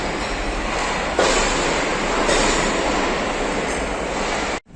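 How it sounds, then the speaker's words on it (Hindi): Karachi Express train at a Pakistan Railways station, a steady broad rumble and hiss of rolling cars heard close from a waiting lounge, continuous until it cuts off abruptly at the end. "16 डाउन कराची एक्सप्रेस कराची रवाना हो रही है"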